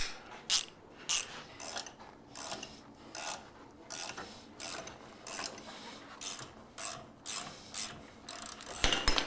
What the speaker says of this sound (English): so we will go to the ratchet